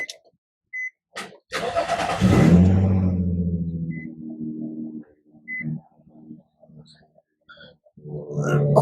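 A Nissan 350Z engine cranks briefly, catches with a loud bark, then settles into a steady, lower idle that fades slightly, with a few light clicks around it.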